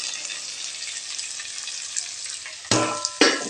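Sliced big onions frying in oil, a dense continuous sizzle, close and fairly loud, with a sudden louder burst of crackling and a second surge near the end as more goes into the hot pan.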